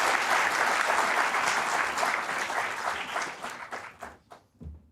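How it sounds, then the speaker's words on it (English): A large audience at a session on Indian arbitration breaks into sustained, dense applause welcoming a speaker to the stage; the clapping holds steady, then thins and tapers off toward the end. "Please welcome him with a warm round of applause."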